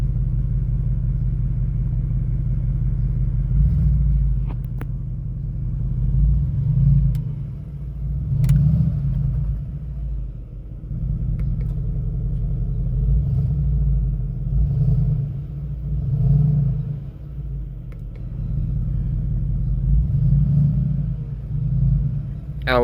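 Low V8 exhaust growl from a 2023 Mercedes-Benz G63 idling and blipping, a steady deep rumble with several swelling surges, heard close and alone without talk.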